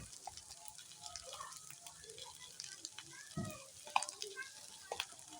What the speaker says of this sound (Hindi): चीनी घुलने तक हम इसे भूनते रहेंगे।